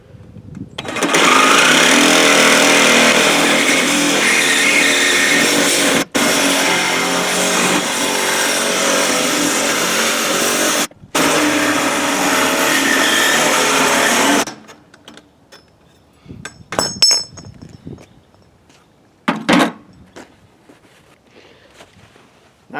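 A tractor PTO shaft being cut to length with a power tool: a loud, steady cutting drone for about fourteen seconds, broken by two brief pauses, then quieter scattered clanks and handling noises.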